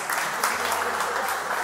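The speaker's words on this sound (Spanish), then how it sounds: "Muchas gracias. Un aplauso." Audience clapping at a family magic show held at a market, a steady dense burst of applause from a nearby crowd that fills the whole moment, with a faint voice underneath.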